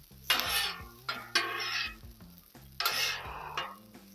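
Serrano peppers and vegetables cooking in oil on a Blackstone griddle, several short bursts of scraping and sizzling from a spatula moving them around, close and fairly quiet, with gaps of low hiss between strokes.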